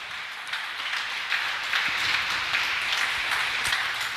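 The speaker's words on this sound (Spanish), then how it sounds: "Denle un aplauso a Jesús." A church congregation applauds for Jesus during a sermon. Many hands clap in a steady, moderately loud wash with a few sharper individual claps standing out, and no speech over it.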